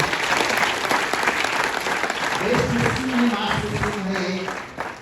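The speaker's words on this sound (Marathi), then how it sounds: "टाळ्या वाजवा त्यांच्यासाठी" An audience applauds junior college students at a college gathering, dense continuous clapping that fills the hall throughout, with a voice speaking over the latter half.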